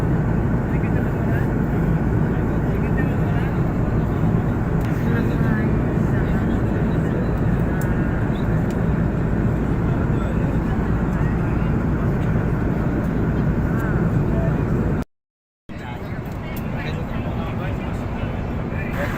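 Cabin noise inside an airplane in flight on the way to Jeddah, a loud, steady broadband roar that continues throughout, broken by a brief gap near the end.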